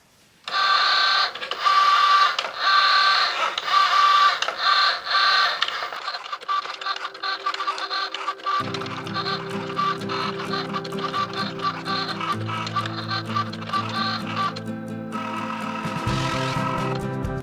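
A Cricut Joy cutting machine slices iron-on material, giving a steady mechanical whir with a rhythmic stepping, printer-like motor pattern and low shifting hums as the carriage moves, running close and continuous without talk.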